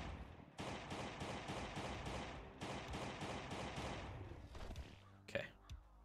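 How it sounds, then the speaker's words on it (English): Rapid bursts of pistol fire in the survival video game Last Day on Earth, two steady runs of evenly spaced shots, followed by scattered thumps and a quieter voice. "maybe we just use the pistol for this"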